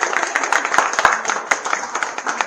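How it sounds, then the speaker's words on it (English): A small tour group in England's Peak District claps together, uneven separate hand claps close by, with a few sharp louder ones standing out and fading slightly toward the end. "Traditionally, we clap now."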